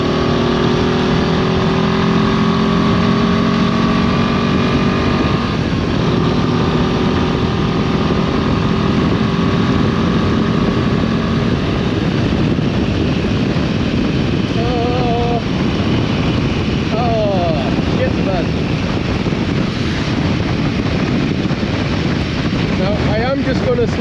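Royal Enfield Himalayan 450 motorcycle engine pulling under throttle on a ride in bad weather, a steady engine drone largely buried under loud, continuous wind buffeting on the microphone.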